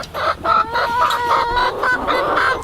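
Backyard chickens clucking continuously near a nest box, several overlapping loud close clucks and squawks with no talking.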